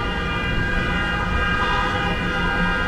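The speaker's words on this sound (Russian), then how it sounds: "Для чего они гудят, если тут красный свет, я не понимаю?" Car horns honk at a red light on a Miami street, sounding as loud, steady, sustained tones that run without a break from start to end.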